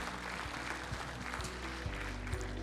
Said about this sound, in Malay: Berikan tepukan kepada beliau.